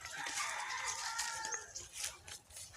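Backyard chickens cluck and chatter in a busy cluster close by, with brief sharper squawks and a hint of crowing.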